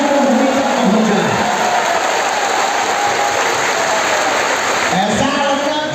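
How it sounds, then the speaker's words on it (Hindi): Loud, dense applause from a large crowd at a religious discourse gathering fills the whole six seconds, a continuous roar of clapping with faint voices briefly surfacing at the start and end. "जोरदार तालियों से 3 दिवस की चर्चा का स्वागत करिए आप सभी कड़कड़ाहट के साथ।"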